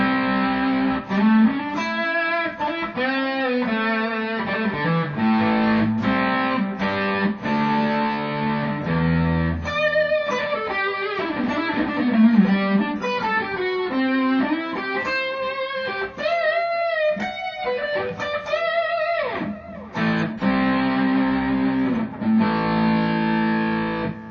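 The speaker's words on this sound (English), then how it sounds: "So I'm running basically the AC booster into what's like the RC." Electric guitar played through a Xotic AC booster feeding a BB preamp pedal, a driven, distorted tone with busy chords and single-note lines playing continuously and steadily loud, with no talking.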